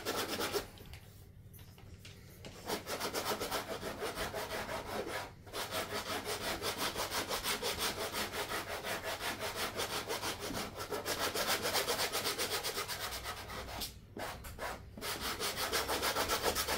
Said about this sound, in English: Now I'm gonna sand it just to get any excess extra glue or paper that's on there.